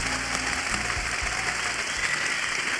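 An audience claps steadily through the whole stretch, a dense, even patter of applause indoors with no talk over it.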